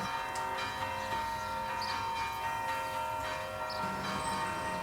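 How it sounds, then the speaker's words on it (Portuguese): Church bells ring from a town church tower, a layered sustained tolling with repeated strikes and rich lingering overtones, heard at a moderate distance without talk. "Como estamos ouvindo, justamente os sinos tocaram agora"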